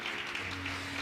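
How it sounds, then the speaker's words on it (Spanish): A church congregation in Chile applauds together, a steady and fairly even wash of clapping that sounds a little distant, with a low hum underneath. "reciban este aplauso de cariño de la iglesia acá en Chile"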